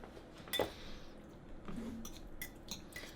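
A utensil scrapes and clinks softly against a pan while stirring shrimp and grits ingredients, with a few scattered light taps and faint wet shuffling, quiet and close with no talking.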